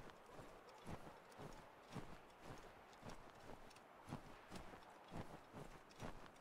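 Horse hooves clip-clop at a steady walking rhythm in Assassin's Creed 3, a series of distinct thuds repeating about once a second, moderately close and alone without talk.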